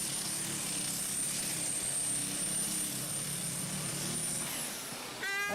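A tractor-pulling machine called Green Muscleman roars at full power at a truck and tractor pulling event, a loud sustained engine drone heard from the sidelines before fading near the end.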